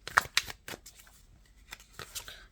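A tarot card is pulled from a deck during a reading, with a couple of sharp card flicks followed by softer rustles and sliding, near and fairly quiet, no voices.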